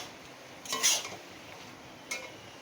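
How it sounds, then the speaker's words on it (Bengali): A utensil scrapes and clanks twice against a pan as fried potatoes go into cooking bottle gourd, one louder metallic stir followed by a fainter one over a quiet background with no speech. "দিয়ে ভালো করে মিশিয়ে নেব।"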